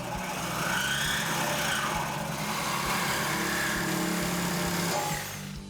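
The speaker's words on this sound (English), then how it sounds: "you can grab yourself a Sawzall or your cutting apparatus of choice and a pair of safety glasses" A Sawzall reciprocating saw cuts through the exhaust pipe of a Camaro being fitted with a Corsa Performance Xtreme axle-back exhaust, with a loud continuous buzzing grind lasting about five seconds before it stops.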